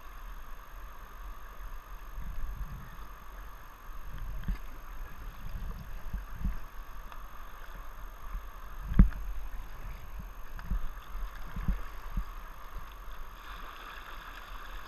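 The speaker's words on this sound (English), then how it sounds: "So follow his line and keep paddling. Very important to keep paddling." Paddles work a canoe or kayak on open water, giving soft irregular dips and splashes over a faint wash of wind and water, with one sharper knock midway.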